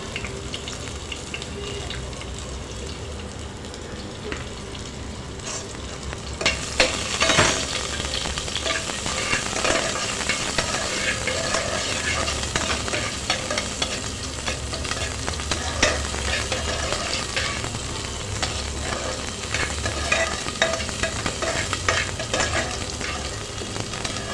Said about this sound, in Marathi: थोडंसं परतून घ्यायचं जास्त नाही आपल्याला परतवायचा कांदा